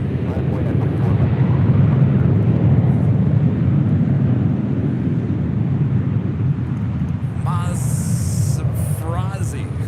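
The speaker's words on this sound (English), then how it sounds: "clear for takeoff, Delta 1507" Delta airliner taking off from runway 24 Left at LAX, a steady loud jet roar rumbling continuously, with a brief higher whine and chirps near the end.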